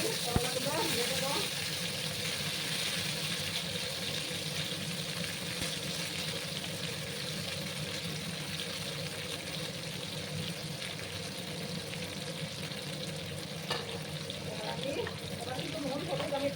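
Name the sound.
bitter gourds frying in mustard oil in a pan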